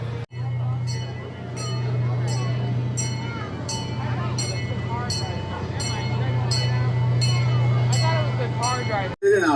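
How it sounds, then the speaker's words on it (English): A small amusement park kiddie train ride at Holiday World in Santa Claus, Indiana rumbles along with a steady low hum and a regular clicking rhythm, close and continuous for several seconds. "This is a little train ride here."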